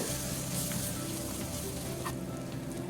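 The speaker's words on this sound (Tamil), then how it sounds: "இஞ்சி பூண்டு பேஸ்ட் அரைச்சி வச்சிருக்கோம்ல, அதை சேர்த்துடலாம். அதை சேர்த்துட்டு ஒரு 3 to 4 மினிட்ஸ் நல்லா வதங்கட்டும்." Ginger garlic paste frying in oil in a pan for chicken biryani gives off a steady, soft, continuous sizzle, heard alone with no talk.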